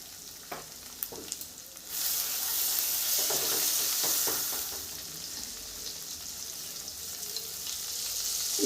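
Ground turmeric, Kashmiri red chili and cumin frying in a pan for a bottle gourd and prawn dish, a few soft taps, then a sizzle swelling loud around two seconds with stirring scrapes, easing and rising again.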